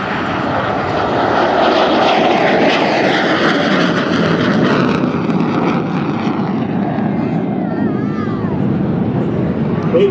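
A MiG-17F jet roars loud and steady overhead during an aerobatic display at the 2024 First State Airshow, with a thick continuous engine rumble and rushing wind that thins slightly near the end.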